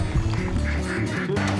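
A duck quacks repeatedly at a lake during a Kentucky Lake outing, loud and close in a rapid run of nasal calls.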